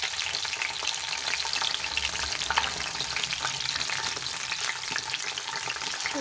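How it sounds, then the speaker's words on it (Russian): Meat-and-offal and cherry pirozhki fry in a pan with a steady, close sizzle and crackle of hot oil, and occasional stirring or shifting of the pastries, with no one talking. "поэтому сейчас зажарю и несу"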